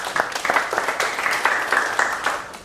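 Brief applause from an audience at a motivational talk, a scattering of separate claps with an uneven, patchy rhythm, moderately close, fading out within a few seconds.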